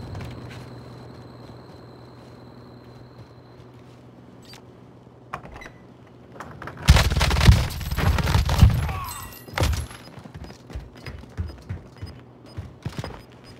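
Sniper rifle fire in a battle royale game erupts as a loud burst of cracks and thuds lasting about two seconds, then a single later shot, over a quiet droning background.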